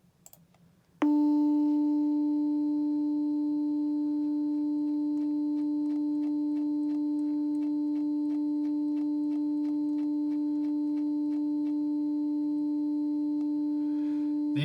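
Steady pure sine tone from a software frequency-slider simulation, starting abruptly after a brief quiet and holding constant and clear with faint harmonic lines, while soft rhythmic clicking ticks along underneath.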